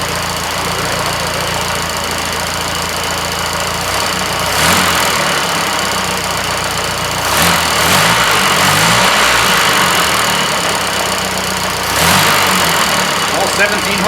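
An Austin Seven car engine of 17 horsepower runs steadily with a loud mechanical whine from its many gears, occasionally revving, while someone talks over it.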